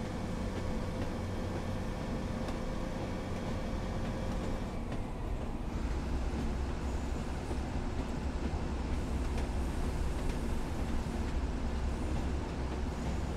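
A Pacer diesel multiple unit running in Train Sim World 4 on the Blackpool branch lines, with a steady, loud engine drone and rumbling rail noise throughout, the texture shifting partway through.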